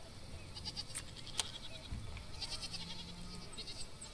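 Goats bleating on a farm in the video game Farm Manager 2018, a few faint, short calls over a quiet ambient bed with no speech.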